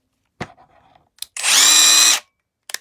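Cordless 20-volt lithium electric ratchet wrench, a short sharp clicks then one loud high-pitched whirring burst lasting under a second, close by, followed by another faint click.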